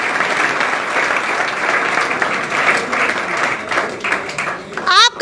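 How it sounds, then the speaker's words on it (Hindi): An audience of young army recruits and their families breaks into sustained applause, a dense steady wash of many hands clapping that fades toward the end as a voice cuts in. "एक बार सभी तालियां बजा दीजिए अपने लिए।"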